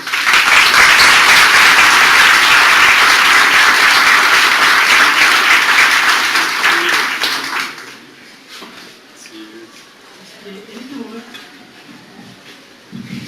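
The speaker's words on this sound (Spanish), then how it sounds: "Les pido un fuerte aplauso para él" An audience gives loud, dense applause for Doctor Semelman, sustained for several seconds before fading out, followed by quieter speech.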